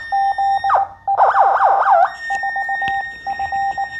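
Beeping tone of an ARDF fox-hunting beacon picked up on a handheld direction-finding receiver, short repeated pulses that break into warbling sweeps and return to steady beeps as the antenna turns, fairly loud and alone.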